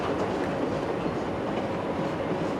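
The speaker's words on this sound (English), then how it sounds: "The next train comes in and we do not have to worry." A train arrives in a railway signalling game on a Birmingham map, a steady, loud rolling rumble with faint clickety-clack of wheels on track, continuous throughout with no voices.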